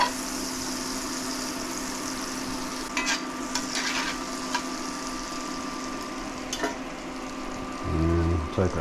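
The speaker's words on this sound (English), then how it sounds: "Add my butter." Butter sizzles and fries steadily in a pan while flounder francese is being made, a continuous close hiss with a few scraping stirs, and a brief voice near the end.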